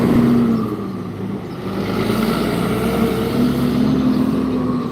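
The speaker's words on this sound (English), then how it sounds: "I had this real loud truck, so y'all sorry." A very loud truck rumbles past up close with a steady engine roar and drone that dips briefly and then swells again, with no talk over it.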